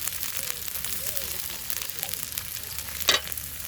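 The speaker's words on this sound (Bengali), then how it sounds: "জিরা বাটা, আদা বাটা, পেঁয়াজ বাটা। এই মশলাগুলো আমি দিয়ে ভালো করে ভেজে নেব।" Cumin, ginger and onion pastes fry in a pan at a village home cookout, giving a steady, moderate sizzle with a brief louder spatter near the end and no talking.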